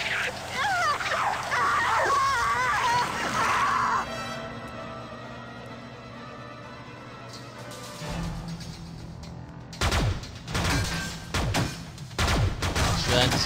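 Gunshots in the space game Freelancer arrive as a cluster of sharp bursts near the end, after a stretch of wavering tones and other game sounds.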